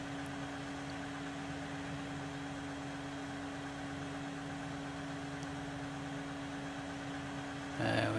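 A Claas Jaguar 900 forage harvester chops corn in Farming Simulator 2013, heard as a steady, droning mechanical hum with a fixed tonal whine that holds unchanged, ending in a brief louder burst.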